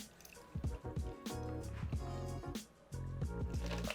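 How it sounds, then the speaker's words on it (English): A Singapore Sling cocktail pours steadily into a glass, gurgling and splashing in bursts with short pauses between pours, close and fairly loud. "now we're just gonna pour that"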